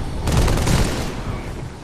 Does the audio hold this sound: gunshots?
yes